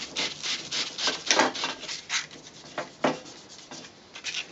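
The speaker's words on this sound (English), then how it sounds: "We just gently sand off any of the high spots." Sandpaper rubs back and forth across a composite water-fed pole section, producing soft rhythmic rasping strokes, close and fairly quiet, with no voices.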